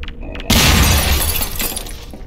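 A zombie's grenade bursts in Half-Life 2 Episode One: a sudden loud blast erupts and then decays into a sustained, crackling, debris-filled roar lasting nearly two seconds.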